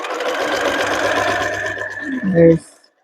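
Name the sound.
sewing machine stitching a blind hem on dress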